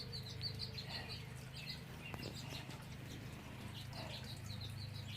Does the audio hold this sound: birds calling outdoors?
yes